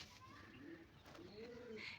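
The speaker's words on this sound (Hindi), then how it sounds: "जो है ये कबूतर।" A pigeon nesting on a home balcony coos softly in low rolling phrases, faint and close, with a light chirp at the end.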